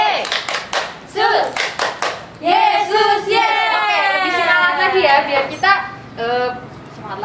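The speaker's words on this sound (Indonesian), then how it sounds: "biar lebih semangat lagi kita akan tepuk Yesus dulu" Children at a Sunday-school worship service clap the rhythmic 'tepuk Yesus' pattern. Sharp bursts of hand claps come in quick groups, alternating with loud group chanting and shouting voices.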